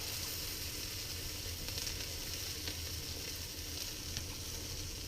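Sausages frying in a pan, a steady close sizzle and crackle with faint stirring clicks throughout, no talking.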